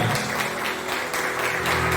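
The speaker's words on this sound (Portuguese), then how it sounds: "Vamos aplaudir essa galera aqui." A church crowd claps steadily in a dense, continuous patter, with a faint low hum or music underneath.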